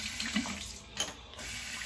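Tap water runs steadily into a sink between razor passes during a wet shave with a Henson AL13 safety razor, a continuous close splashing flow with a brief surge near the middle.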